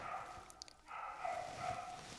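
A dog barks somewhere in the background, faint and distant, in a couple of drawn-out bursts over a low, steady room hum with no talking.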